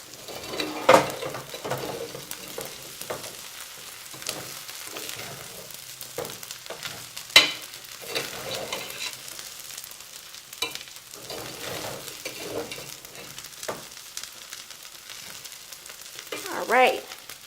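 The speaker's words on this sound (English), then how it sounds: "and mix it all in." Ingredients for a vegan Thai soup are stirred and mixed in a hot pan, giving a steady soft sizzle with scraping utensil strokes and a few sharper clinks against the pan across the stretch, with no talking.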